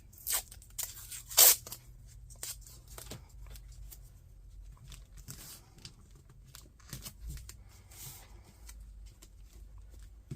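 Painter's tape is pulled and torn with a couple of sharp ripping bursts near the start, followed by quieter crinkling and pressing as it is stuck down on a T-shirt neckline.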